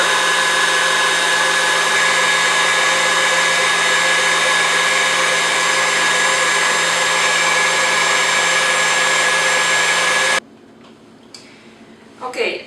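An electric mixer whips egg whites with sugar for meringue, giving a steady, loud motor whine with a droning tone for about ten seconds. It then cuts off abruptly, leaving a quiet room with a few faint clinks.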